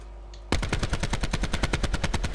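A fast, evenly spaced burst of automatic gunfire in a 5v5 video game tournament match starts abruptly after a short quiet moment and rattles on loud and close to the end.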